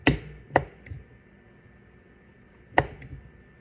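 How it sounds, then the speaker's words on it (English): Sharp, isolated clicks and pops from the lid of a preserving jar of salsa, two close together and then another after a pause, each bright and brief over a quiet room. "Should be able to hear a little pop."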